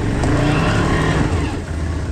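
An off-road vehicle's engine revs hard on a dirt trail, a loud dense rumble with steady growl and churning noise filling the short stretch, close to the listener.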